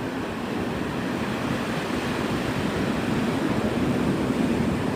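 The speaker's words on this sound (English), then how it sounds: "look at those waves" Heavy Gulf surf pounds the shore at Navarre Beach, Florida under double red flag conditions, a steady, dense roar of breaking waves with wind rushing across the microphone and no voices.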